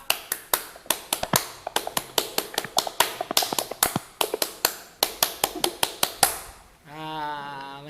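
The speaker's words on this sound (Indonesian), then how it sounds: "Sebelumnya kita tepuk pramuka dulu ya." A Scout clap (tepuk pramuka) performed by participants: a long run of sharp claps in a rapid, patterned rhythm, close and crisp, with a voice starting up right afterward.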